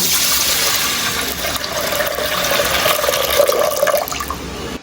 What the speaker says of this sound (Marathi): कुकरमध्ये डाळ टाकायची एक ते दोन पाण्याने स्वच्छ धुवायचे डाळीला